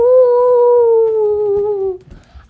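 A voice imitates a dog, drawing out one long howling woof that slides slowly downward in pitch before trailing off into quiet.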